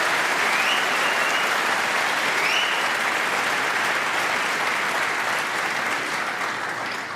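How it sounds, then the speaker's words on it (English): The snooker crowd at the 2019 Masters semi-final between O'Sullivan and Ding gives loud, sustained applause, a dense, continuous clatter of many hands with occasional faint whistles, easing slightly toward the end. "deserving round of applause there"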